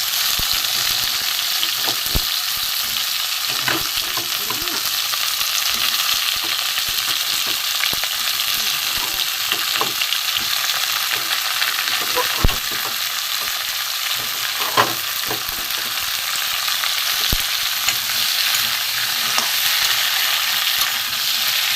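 Vegetables, including papaya and potato, fry with cumin in hot oil for a bata fish dish. A steady, close sizzle hisses throughout, broken by occasional clinks and scrapes of stirring.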